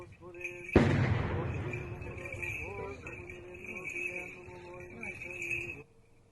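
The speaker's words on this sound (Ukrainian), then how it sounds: "під вибухи російської артилерії" A single heavy boom of Russian artillery erupts and rumbles away, followed by a sustained low roar with a steady tone above it, somewhat distant.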